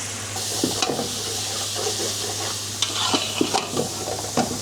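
Rice and lentils stirred in a little oil in a pan, with a steady low sizzle and scattered scraping spoon strokes against the metal, close by and without talk.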